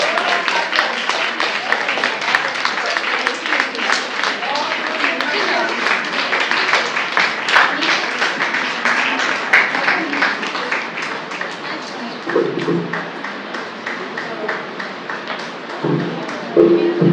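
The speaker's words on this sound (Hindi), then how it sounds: "तालियां जोर से।" Loud, continuous applause with many hands clapping rapidly, a dense even patter that persists before a couple of brief voices break in near the end.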